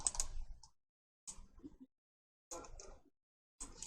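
Sparse computer keyboard key presses, a handful of separate clicks and short clusters with silent gaps between them, close and quiet with no talking.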